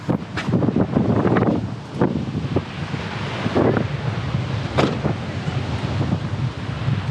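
Cold wind blowing across the microphone by the bay at Palm Beach, loud rumbling gusts that swell and ease in irregular waves, with faint water or surf beneath.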